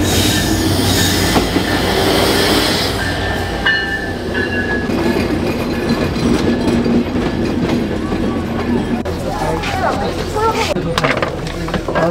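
Simanta Express passenger train pulling into a station, heavy rumbling wheels and wagon noise with squealing brakes and a bright whistle-like tone, loud and close, with people talking beneath it.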